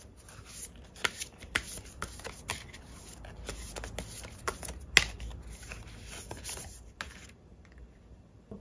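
Tarot cards shuffled and drawn by hand, a steady run of soft riffling and sliding card sounds with sharper snaps and flicks, fairly close, ending in near quiet.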